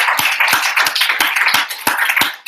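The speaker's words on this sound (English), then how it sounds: "I'd like to have everyone give a big round of applause for Dr. McDonald." Audience applause for a guest speaker, a dense wash of many hands clapping with steady sharp transients, moderately loud and continuous before tapering off at the end.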